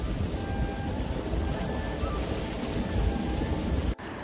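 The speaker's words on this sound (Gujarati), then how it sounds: "આ બધું વરસાદનું પાણી જાય છે કેનલમાં" Rainwater rushes through a canal near Umrala village after heavy rain, a dense, steady roar of flowing water close to the microphone with some wind buffeting.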